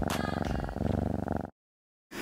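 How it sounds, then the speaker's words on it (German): A cat purrs up close in a fast, steady rhythmic rumble. The purr breaks off into brief silence, then starts again. "kommt jetzt hier noch eine Katze"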